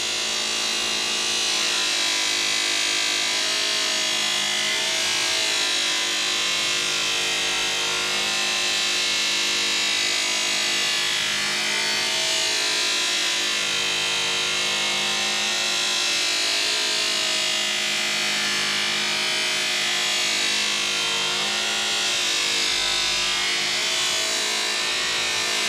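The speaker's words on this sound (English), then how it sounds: "I buff the corner first, then I do the end. I do half the long section, then the other half, and I do it twice each time" Polishing wheel buffing a metal exhaust pipe for a 1921 Ford T bucket, a loud continuous motor whine with steady rubbing friction throughout, no voices.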